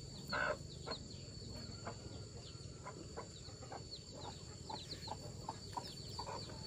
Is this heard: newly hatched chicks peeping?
yes